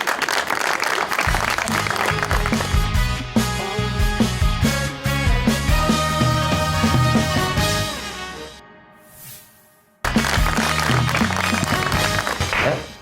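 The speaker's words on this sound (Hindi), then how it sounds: "तालियां।" Studio audience applause on a talk show, with loud, dense clapping and music playing together, a near-silent break toward the end, then loud music and clapping again.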